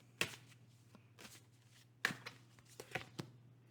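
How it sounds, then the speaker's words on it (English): Tarot cards being shuffled by hand during a pick-a-card reading, with sharp riffling bursts at irregular intervals over a steady low hum, close and moderately loud. "I've just shuffled the cards in a weird way, just fix that up."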